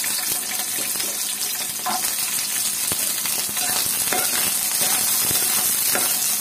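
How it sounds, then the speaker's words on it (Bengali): Onion and garlic go into a pan with dried chillies and fry with a steady, close sizzle, broken by a few scraping stirs and faint water-like hissing, with no voices. "এই যে পেঁয়াজ রসুন দিয়ে দিলাম।"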